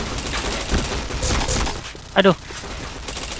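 Gunfire in a first-person shooter game, a burst of rapid shots and sharp game effects heard close, mixed with a player's voice talking over the action.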